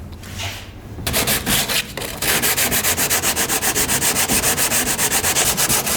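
Hand sanding a fiberglass car bumper with coarse sandpaper: a steady, loud rhythmic rasp of rapid back-and-forth strokes, close up, after a brief quieter scrape at the start, with no voices.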